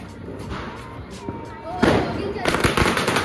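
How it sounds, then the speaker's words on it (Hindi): Multi-shot Diwali fireworks being set off outdoors, a series of sharp pops and bursts that grow louder toward the end, with people talking over them. "ये हमारी चाची जलाएंगे अब शॉट्स"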